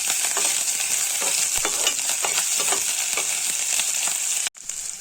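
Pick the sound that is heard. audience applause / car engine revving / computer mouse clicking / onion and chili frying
onion and chili frying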